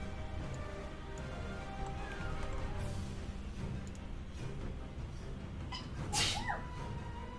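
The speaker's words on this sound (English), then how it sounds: "It's a sneeze battle." Sneezes break out among a group of people gathered around a tabletop game session, one sharp burst standing out late over a steady background hum and murmur of the room.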